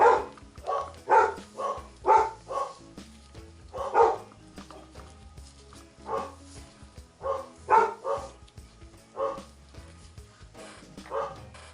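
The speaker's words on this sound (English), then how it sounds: "Listen to my dogs barking over me talking." Several house dogs bark in repeated bursts, fairly close, in an indoor setting, with a few yips between volleys and some quieter gaps in the middle.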